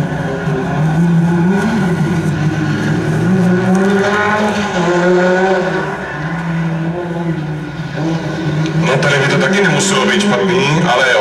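Rally cars at the Sosnová Slippery Rally race past the finish, engines loud and close with revving and tire noise, while an announcer talks over them throughout.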